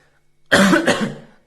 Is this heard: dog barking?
no